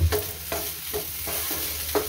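Chopped okra with salt and pickle spices is stirred and fried in a pan, a steady close sizzle broken by regular scraping strokes of the spoon about every half second.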